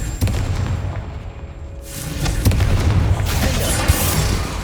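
Confringo blasting spell in Hogwarts Legacy, a deep booming explosion blast that rumbles on, followed by further heavy blasts and a loud sustained roar of fire and debris.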